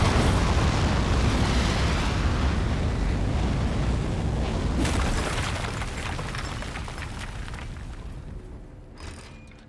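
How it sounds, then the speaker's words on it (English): Rocket liftoff in the video game Aperture Desk Job, a loud roaring rumble that slowly fades over several seconds, ending with a faint pop. "3, 2, 1. We have liftoff."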